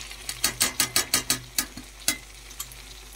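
Masala being stirred in a pan for a potato, bakula bean and onion curry, a series of sharp, regular scraping and clinking strokes up close, evenly spaced then thinning out, with a light sizzle underneath.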